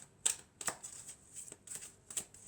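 Tarot cards are shuffled in quick bursts of riffling and flicking, with several crisp, fairly soft shuffles separated by short pauses, and no one talking.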